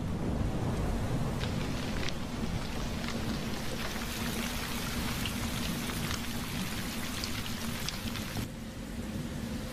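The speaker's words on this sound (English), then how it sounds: "The rains finally return, bringing much-needed relief to the parched earth." Steady rain pouring down, dense patter of drops on surfaces with a soft wind rush, continuous and fairly close throughout.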